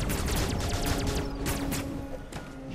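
Rapid shots from Samus's arm cannon in Metroid Dread, a quick string of sharp blasts over busy game music and effects, fairly loud and continuous.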